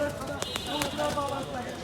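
Pigeons at a pigeon market in Kalitola, Bogura, with a busy crowd behind them. Soft cooing and bird calls come through a steady murmur of market chatter, with a few brief sharp sounds that could be wing flaps.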